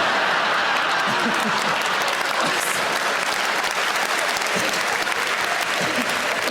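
A comedy audience bursts into applause, a thick and even roar of clapping that holds at full volume throughout, with faint voices underneath.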